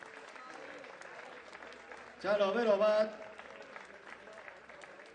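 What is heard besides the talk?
applause for cycling race prize winners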